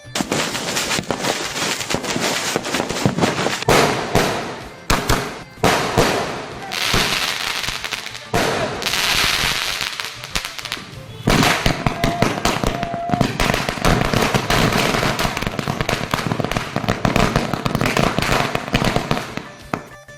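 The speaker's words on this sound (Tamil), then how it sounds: "மக்கள் பட்டாசு வெடிக்கும் போது" Diwali fireworks and firecrackers bursting across Chennai, a dense, continuous barrage of cracks and pops with rapid rattling strings and occasional heavier booms, loud and sustained throughout with a few faint voices underneath.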